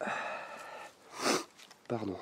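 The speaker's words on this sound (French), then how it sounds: "Excusez-moi pour renifler, mais j'ai plus de mouchoir." A person gives a single sharp sniff in the middle of brief bits of quiet speech.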